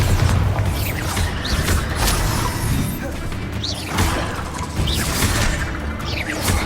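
Bombarda blasting spell in Hogwarts Legacy, several heavy booming impacts with crashing debris, spaced a couple of seconds apart over a busy rumbling background.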